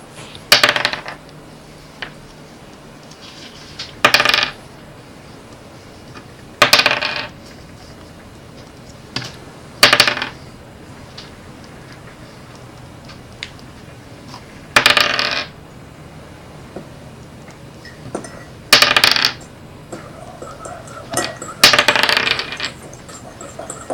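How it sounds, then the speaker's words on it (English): Dice are rolled over and over on a hard surface, giving about eight bursts of rattling, clattering tumbles spaced a few seconds apart, with quiet pauses between them. "I'm gonna be rolling this dice for the next little bit"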